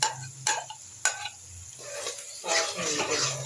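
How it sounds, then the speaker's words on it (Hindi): Green chilies fry and sizzle in a pan with masala while a spoon scrapes and clinks against the metal, giving a few sharp knocks and then a steadier frying hiss. "अब इसको भूनेंगे, तो ये देखो ये सब्ज़ मिर्चें भी डाल देंगे आधी"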